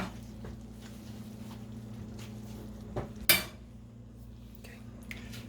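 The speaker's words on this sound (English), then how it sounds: "Put your cilantro in. Give it a stir. Cover." A spoon scrapes and clinks inside a pot of enchilada filling with cilantro and beans over a steady low hum, then one sharp metallic clank as a lid goes on.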